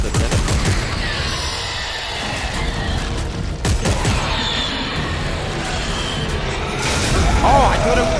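Gunfire in a Dead Space 3 boss battle comes as loud bursts and heavy booms with mechanical clatter, rising and falling across the clip with short gaps between volleys.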